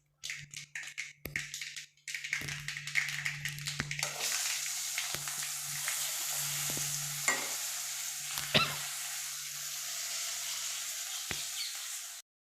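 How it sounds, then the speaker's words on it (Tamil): Shallots, dried red chillies and curry leaves frying in hot oil: a few sharp taps and stirring clicks, then a steady loud sizzle that continues with occasional scrapes, no voices. "தெரிச்சு வரும்போது நம்ம இந்த சின்ன வெங்காயம், இந்த வரமிளகா, கருவேப்பிலை எல்லாத்தையும் போட்டுடலாம்."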